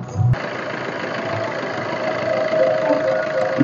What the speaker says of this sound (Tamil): இன்ஜின் பார்த்தீங்கன்னா ரன்னிங்கில் தான் இருக்குது